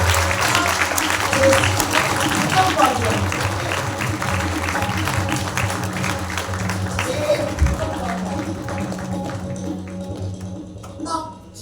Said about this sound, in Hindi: जैसे आप लोगों ने ताली बजाया